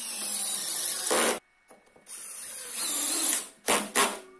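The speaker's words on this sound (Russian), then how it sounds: "И закручиваем саморезы." A power screwdriver drives self-tapping screws at a slight angle into a bent strip of band-saw blade steel, making loud sustained whirring bursts with brief pauses between them.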